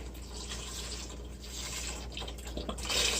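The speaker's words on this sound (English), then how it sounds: "We're going to add our broth now. 1 full canister of this one." Broth poured from a full canister into a soup pot, a continuous close liquid pour with gurgling that rises toward the end over a low background hum.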